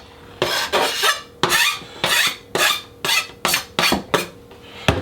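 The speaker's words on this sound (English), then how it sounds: "take my knife, scrape the rest of the way in there." A knife scrapes food across a cutting board in a kitchen, about ten short rasping strokes in a steady rhythm, close and fairly loud with no talking.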